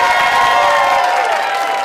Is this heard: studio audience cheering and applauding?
yes